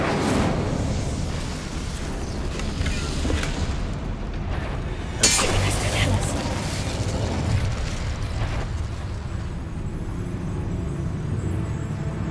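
Incendio fire spell cast in Hogwarts Legacy, a loud rumbling burst of flame over dense game ambience, with a sharp flare midway and sustained low roar.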